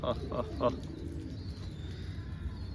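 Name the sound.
pigeons cooing after feeding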